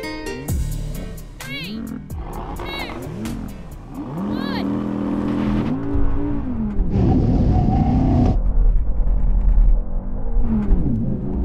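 Cars racing, with engines revving and accelerating through a loud, continuous stretch and a strong low rumble surging near the middle, while voices and excited calls run over the top.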